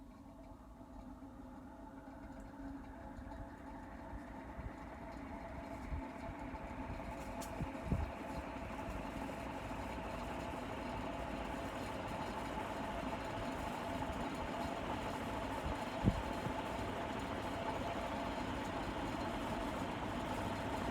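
A vintage 56-inch NF industrial ceiling fan runs on its fastest setting through a five-speed rotary control, a steady whirring hum with a constant whooshing drone and a few faint clicks, alone and even throughout.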